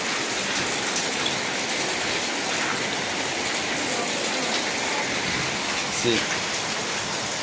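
Heavy rain in Hyderabad pours down from above near a staircase, a loud, dense, continuous hiss of falling water with no pause.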